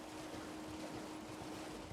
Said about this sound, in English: like you can hear the waterfall in the background